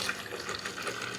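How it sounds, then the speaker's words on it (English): Nut milk pours steadily back into a blender jar, a continuous close liquid splashing and trickling for about a second with no talk. "So now we're going to go ahead and pour this beautiful milk right back into the blender."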